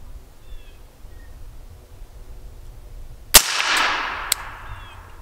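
A suppressed rifle shot, 5.56 or 7.62x39 caliber, cracks once sharply outdoors and rolls into a brief diffuse echo, followed about a second later by a fainter impact snap; quiet ambient background with distant birds before it.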